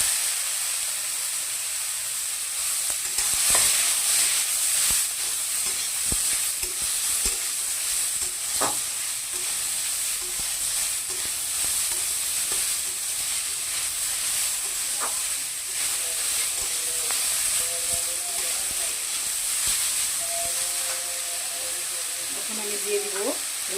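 White mustard seeds frying and sizzling in a pan, a steady dense hiss lasting throughout with occasional pops and stirring clatter.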